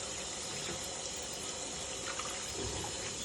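Running tap water streams over mustard greens being washed one by one, a steady close splashing flow with small shifts as leaves pass under the stream.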